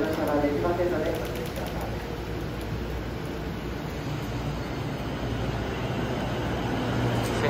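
A JR E233 series 2000 train rumbles into Hachioji Station with a steady low roar and rattling, loud and close, while a station announcement plays over it.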